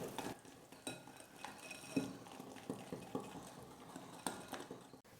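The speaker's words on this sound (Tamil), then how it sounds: "சர்க்கரையும் எண்ணெயும் சேர்த்து நல்லா கலந்து கொடுத்துக்கலாம்." Sugar and oil being beaten together in a bowl for an eggless cake batter: quiet, repeated scraping and tapping of a spoon or whisk against the bowl in uneven strokes, close and soft.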